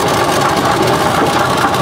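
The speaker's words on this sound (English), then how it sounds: "There's another Minneapolis steam engine." A 20-horsepower Minneapolis steam traction engine runs at a steam threshers show, giving a loud, steady, close mechanical drone with constant vibration and no voices.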